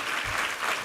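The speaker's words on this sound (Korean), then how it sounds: "우리 하나님께 감사와 영광의 박수 올려드리겠습니다" Steady burst of clapping from a church congregation at a Sunday service, dense and even, with no voices rising above it.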